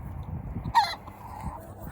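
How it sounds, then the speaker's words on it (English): Backyard chickens with a single short squawk rising above a low, faint rumbling background, otherwise quiet. "the chickens are going over and eating the cat food over at the neighbors again"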